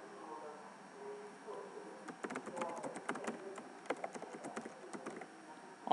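Fingers type data on a computer keyboard in quick, irregular bursts of soft clicks. The keys sound close but quiet, with a low room hum underneath.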